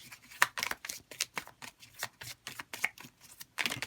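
Tarot cards are shuffled and drawn by hand, giving quiet, crisp riffles, slides and light slaps in an irregular rhythm, close up with no talking.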